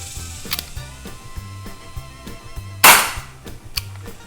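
A KWC Colt Python airsoft revolver by Cybergun fires one sharp, loud crack, with lighter clicks and mechanical ratcheting of the cylinder and hammer before and after, over a low rhythmic background hum.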